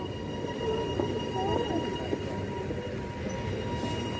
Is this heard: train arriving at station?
yes